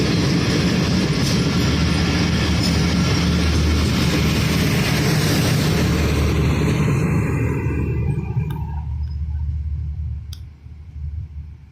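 A train roars through Walton railway station, loud and close, with a heavy rumble and clattering wheels that fade over the last few seconds as it moves away.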